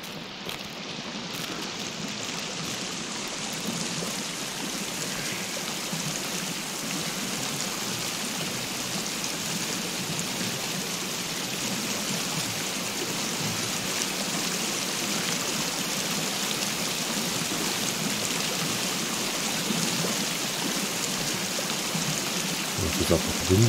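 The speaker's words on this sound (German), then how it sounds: "Naja, als nächstes ist der Wasserfall." A waterfall in the survival video game Sons Of The Forest gives off a steady, broad rushing hiss that stays even and fairly loud throughout, with no speech over it.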